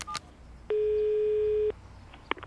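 Phone button tones sound as someone presses the keys of a mobile: one steady electronic beep lasting about a second, with brief clicks before and after it.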